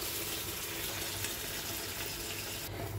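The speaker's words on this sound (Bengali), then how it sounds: "দিয়ে দিলাম গরম জল, বেশি দেবো না, অল্পই থাকবে" Hot water pours steadily into a pan of potato curry in a home kitchen, giving a faint, continuous splashing gush that runs without a break for the whole moment, with no talking.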